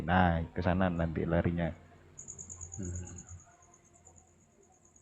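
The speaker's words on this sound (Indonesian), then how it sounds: "Itu jangkrik dari suara siapa sih?" A steady, high, thin cricket chirp starts partway through and continues faintly in the background after a person finishes speaking.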